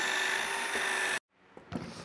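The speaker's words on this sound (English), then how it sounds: "I'm going to use this cool bit that is designed by the Craig company and provided with the Craig jig to drill the pocket holes." A power drill fitted with a Kreg jig pocket-hole bit bores into wood for an entry bench, running steadily and close, then cutting off abruptly and followed by a short, quieter burst of handling noise.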